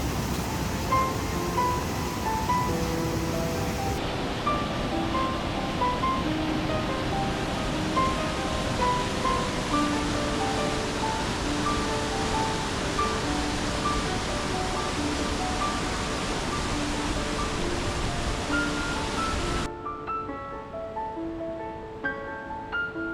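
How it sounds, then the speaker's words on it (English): Rushing water from waterfalls and creeks pouring over rocks in Glacier National Park: a loud, continuous broadband roar with no pauses, with a soft melodic tone sounding faintly beneath, then thinning abruptly near the end. "some of the most intense waterfalls, water features, rock formations with the creeks and the water just pouring over"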